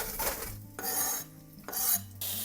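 Vegetables land in a large pan of hot oil over high heat, giving bursts of scraping, clattering and sizzling in three separate stirring spells with short quiet gaps, close and fairly soft, with no voices.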